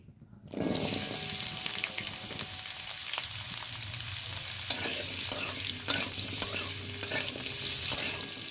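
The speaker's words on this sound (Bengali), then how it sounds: "এবার আমি ওই সেম তেলের মধ্যে ছোট ছোট করে কেটে রাখা ফুলকপিগুলো ভেজে নেব।" Small cut cauliflower pieces fry in hot oil left over from frying carrots, a steady broadband sizzle that starts abruptly, with occasional scraping stirs and clinks near the end.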